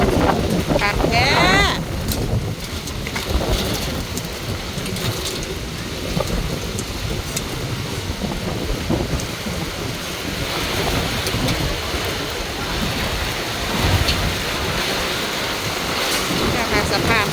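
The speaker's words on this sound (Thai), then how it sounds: "พายุ" A heavy thunderstorm hits an outdoor market with vendors, giving a dense, loud roar of pouring rain with rumbling, broadband wash throughout, and brief sharper bursts near the start.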